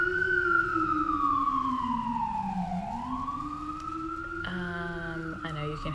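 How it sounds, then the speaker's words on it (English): Emergency vehicle siren wailing on a New York street, its pitch sliding down and back up in a long sweep, then a second siren's rapid yelp joins near the end, steady and moderately distant. "hear sirens in the background"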